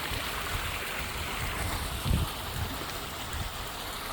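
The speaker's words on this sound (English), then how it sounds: "That is the water flow." Steady rushing water flows continuously outdoors at a dam, a broad constant wash with a brief low thump partway through.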